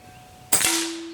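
A single sharp report from an Airmaks Arms Katran Long airgun firing a 15.89 grain pellet at a bullseye target, close and loud, followed by a brief ringing tone that fades.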